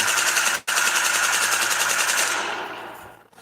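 Automatic gunfire sound effect added in an edited video, a dense continuous rattle of rapid shots with one brief break, then tapering off at the end.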